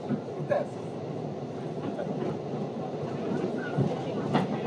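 Moving MTA subway train rumbling with a steady dense roar and occasional clunks and rattles of the rail car throughout, close and continuous.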